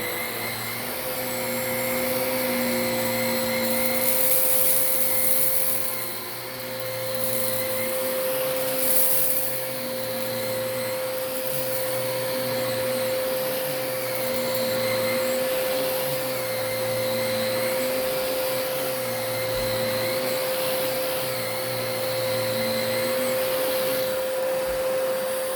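A Filter Queen Majestic 360 vacuum cleaner runs on high with a steady, close whine and a pulsing motor hum that holds for the whole stretch.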